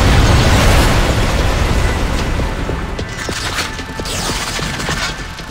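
A loud, close explosion of an enemy in the video game Vanquish: a heavy booming burst that rolls into crackling mechanical debris and rattling clanks, fading but still dense over several seconds, with no talk.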